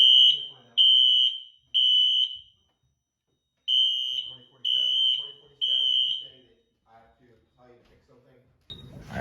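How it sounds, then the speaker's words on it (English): A basement smoke detector sounds during a fire alarm inspection, giving six loud, shrill beeps in two groups of three with pauses between, followed by faint speech and a louder rustle. "All right, basement smoke detector test now."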